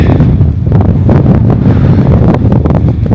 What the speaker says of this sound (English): Oh, wow, it's windy.